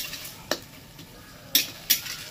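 Chopped tomato sautés in a pan under a soft sizzle while a spatula stirs it, making a few sharp clinks and scrapes against the metal.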